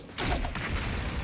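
Booming blasts from bombs in the video game Last Defense Academy, a dense, continuous rumble of overlapping explosions that jumps in loudness early and stays heavy throughout.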